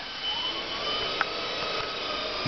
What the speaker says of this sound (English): you can hear the motor in the background spinning up right away